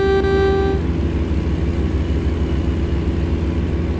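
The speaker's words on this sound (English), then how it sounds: "Honky honk honk." A short, loud truck horn blast in a trucking video game at the start, followed by a steady, low engine drone with no talking.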